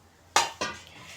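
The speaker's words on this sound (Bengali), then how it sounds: "এবার টমেটো দিয়ে দিব।" Tomatoes tipped into a pan of bananas frying in mustard oil land with two sharp clattering hits, the second smaller, followed by a fading hiss and utensil rattle, close and alone.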